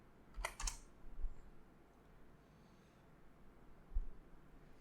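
A short burst of keystrokes on a computer keyboard while a localhost address is typed into a web browser: a few close, crisp clicks near the start, then a couple of faint, dull taps against a quiet room, with no voices.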